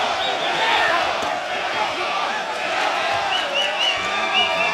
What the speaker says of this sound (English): Mexico, Mexico is what the crowd is yelling here at the StubHub Center